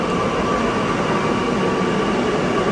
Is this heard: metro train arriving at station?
yes